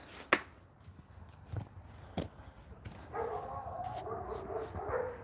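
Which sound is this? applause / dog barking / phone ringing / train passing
dog barking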